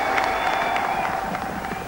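Racecourse crowd at Aintree applauding a charity walker, a dense wash of clapping and murmuring cheers from a large gathering, steady and fairly loud for a brief moment.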